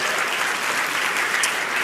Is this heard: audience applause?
yes